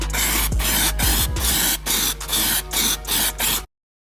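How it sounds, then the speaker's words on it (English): Weld-through primer sprayed from an aerosol can onto a freshly welded car bracket during a Ford Escort RS Cosworth restoration, in a series of short hissing bursts with brief pauses, close and alone. "I'll give it one more coat of some weld through primer just to protect it"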